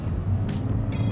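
A car accelerating hard on a test track, its engine a loud, close, continuous low rumble with a brief rise in harsher noise partway through.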